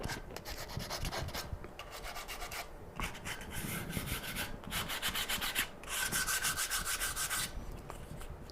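Sandpaper rubs back and forth over a camphor wood cutting board, a steady close scratchy sanding in long strokes with brief pauses between passes.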